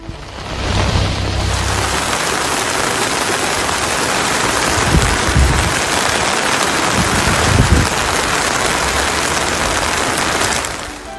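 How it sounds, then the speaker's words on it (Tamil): Moderate rain falls in Kodaikanal, Dindigul district, as a dense, continuous wash of hiss that holds steady for over ten seconds, loud and close, with a few low rumbles underneath and no voices. "திண்டுக்கல் மாவட்டம் கொடைக்கானல் உள்ளிட்ட பகுதிகளில் மிதமான மழை பெய்தது."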